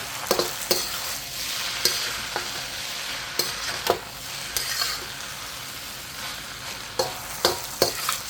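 Thai pineapple fried rice being stir-fried, with a steady sizzle under repeated scraping strokes of a utensil against the pan, sharp clinks at irregular intervals, no talking.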